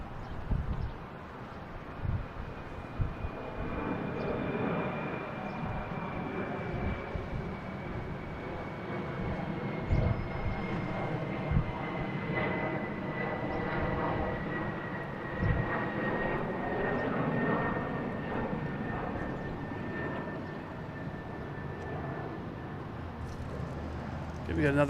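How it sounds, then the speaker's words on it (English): A Delta Embraer E-175 regional jet departing Boston Logan for LaGuardia, its engine roar and a high whine rising and sustaining at moderate distance, with a person talking over it throughout. "Next up, we have Delta heading to LaGuardia. E-175, flight"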